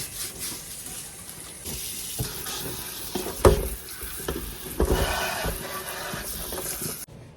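Plantains with the skin on being washed under running tap water, a steady close splashing and rushing stream with occasional louder sloshes as the fruit is rubbed and turned, ending abruptly.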